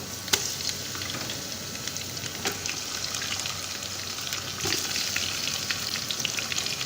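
Onions and chicken sizzling and frying in a pan for a Saudi chicken kabsa, a steady close hiss with a few light clicks of stirring and no talk.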